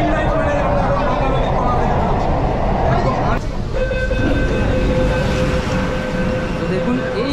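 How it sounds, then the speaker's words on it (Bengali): A Kolkata underwater metro train pulls out of Howrah Maidan station, its loud, constant rumble filling the platform and shifting in tone partway through as it moves off. "7:45 কিন্তু ট্রেন ছেড়ে দিল।"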